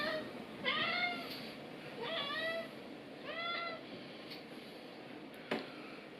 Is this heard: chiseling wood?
no